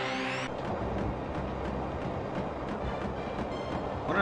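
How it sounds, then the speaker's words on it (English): A train in the Skies of Arcadia Legends video game rolls along steadily, with a continuous rumbling clatter that holds level throughout and never fades. "Wonder how long this train even goes."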